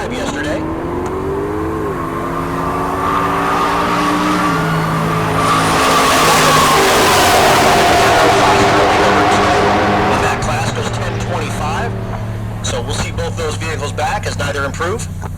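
A Chevrolet Silverado drag races down the strip at Heartland Park Topeka, its engine rising loud and close with a tire squeal and a roaring pass, while an announcer talks over it.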